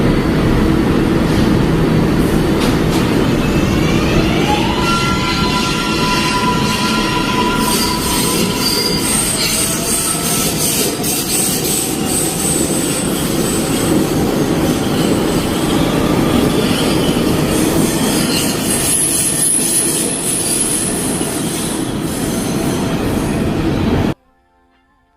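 A Bombardier/Kawasaki R142/R188 New York City subway train with 3-phase AC induction traction motors runs loudly and steadily, wheels squealing in high sustained tones over a dense rumble of rail noise, until it cuts off abruptly.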